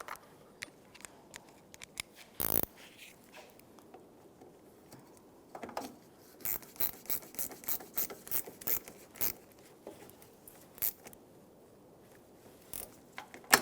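A 10mm socket ratchet tightens the negative battery terminal on a 2000-2006 Toyota Tundra: quiet, close clicks, one short burst, then a quick run of ratcheting clicks near the end.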